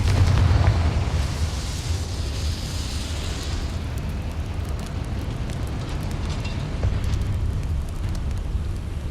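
Confringo fire spell explosion in the video game Hogwarts Legacy, a loud rumbling blast with crackling fiery burst that fades into a sustained low roar.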